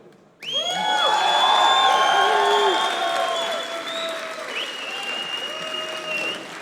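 A crowd at a Gfinity G3 Starcraft 2 grand final breaks into loud applause and cheering that starts abruptly, swells, then eases into sustained clapping with whoops and shouts throughout.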